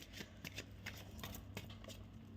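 Tarot cards are shuffled and drawn close by in a quiet room, making faint, quick riffling flutters and soft slaps in short bursts, with no talking.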